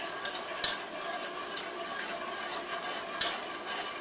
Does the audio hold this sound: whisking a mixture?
yes